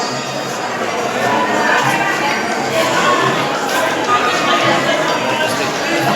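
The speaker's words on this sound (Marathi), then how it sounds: "गर्दी आहे, बऱ्यापैकी गर्दी आहे" Crowd at a temple in Akkalkot, a dense, steady wash of many voices chattering with occasional shouts, close and loud, with footsteps mixed into the hubbub.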